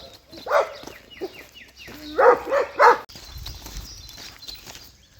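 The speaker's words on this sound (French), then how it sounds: "Taisez-vous les chiens." Dogs bark outdoors along a rural walking trail in fertile plains, several barks in uneven bursts at moderate distance, with footsteps and ambient noise.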